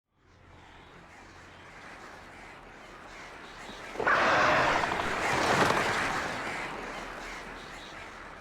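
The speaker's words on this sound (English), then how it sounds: "Tired of the birds!" A flock of crows caws and swoops to attack in the Alan Wake video game, a dense rising flurry of harsh calls and wingbeats that swells loudly midway.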